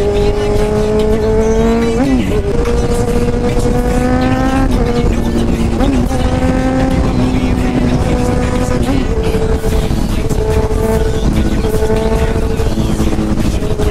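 Ferrari sports car on the road alongside a Kawasaki Z1000 motorcycle, engines droning loudly and continuously with rising and falling revs as they shift gears, close and steady throughout.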